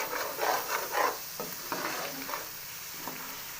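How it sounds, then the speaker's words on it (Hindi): Garam masala and coriander powder stirred into a sizzling black chickpea curry, a spoon scraping and rubbing through the pan in several short strokes over a soft, steady frying hiss, close and fairly quiet. "अब इसे कर लेंगे हम लोग अच्छी तरह मिक्स।"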